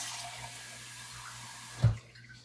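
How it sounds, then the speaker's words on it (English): Tap water runs steadily from a kitchen faucet as hot water is drawn for bread dough, a fairly quiet continuous hiss, followed by a brief louder splash near the end. "go in with a cup of hot water. So again, you can go back to the tap and just use regular tap water"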